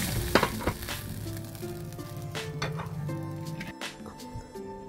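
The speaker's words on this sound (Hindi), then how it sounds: "हल्दी डालकर मेरी ये टेंगरा फिश को फ्राई कर लिया।" Tengra fish fry in hot oil with turmeric, a close, steady sizzle with occasional sharp pops and scraping stirs, fairly quiet and without talk.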